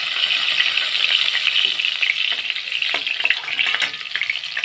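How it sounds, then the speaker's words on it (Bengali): Small carp fish frying in hot oil in a wok, giving a steady, close, dense sizzle with crackling spatters throughout and no talk. "একইভাবে এই মাছটাও ভেজে তুলে নেব।"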